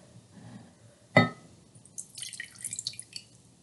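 Liquid poured into a measuring cup to the 1/8-cup line: one sharp splash, then a soft, airy trickle that comes and goes, close and fairly quiet with no talking.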